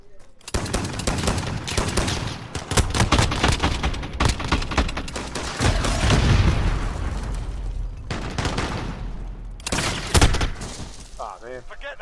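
Heavy gunfire from a shotgun in Call of Duty Modern Warfare pounds loudly almost without a break, blasts overlapping into a dense barrage with brief gaps near the end.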